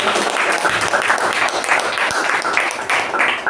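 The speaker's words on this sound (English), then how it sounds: "give a huge round of applause to our secretary" A huge round of applause at a Toastmasters club meeting: loud, dense clapping from a roomful of people that runs continuously and evenly from start to finish, with no one speaking over it.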